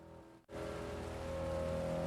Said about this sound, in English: Yeah, that's right, raindrops